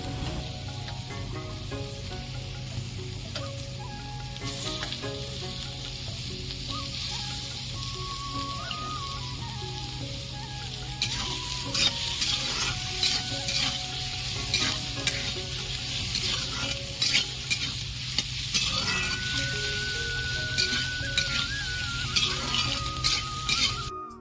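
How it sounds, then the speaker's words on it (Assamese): Local chicken meat frying in hot oil with browned onions and a bay leaf, a steady close sizzle with regular scraping and stirring of the pan, and no voices. "পিঁয়াজখিনি ৰঙচুৱা হোৱাত মই মাংসখিনি দি দিলোঁ"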